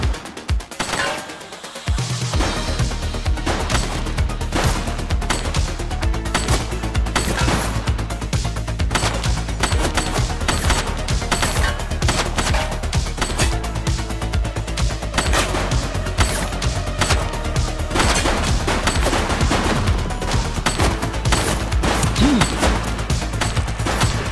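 Sustained gunfire from a suspect in the top-down police action game The Precinct, with rapid repeated shots, crashes and booming impacts forming a loud, dense barrage that runs almost continuously after a brief quiet start.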